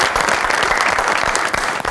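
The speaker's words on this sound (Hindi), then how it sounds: "बहुत सारी तालियों में वेलकम कीजिएगा जी डाकिया साहब" A studio audience on a talk show bursts into dense, loud applause to welcome a guest, continuous clapping filling the whole short stretch.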